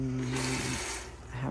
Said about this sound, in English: I have water.